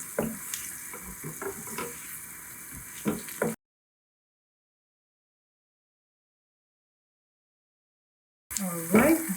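Chopped vegetables fry in a pan for bolognese sauce while being stirred, with a steady close sizzle and scraping spoon strokes, broken by a long silent gap before the sizzling returns briefly.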